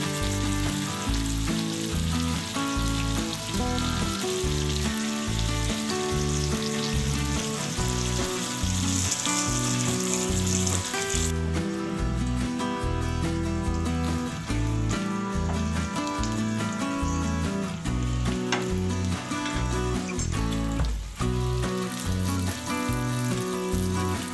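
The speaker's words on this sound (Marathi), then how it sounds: "त्यामुळे मच्छी चांगल्या प्रकारे फ्राय होते" Pieces of surmai fish fry in a hot pan with a steady sizzle, while music plays over the cooking sound throughout.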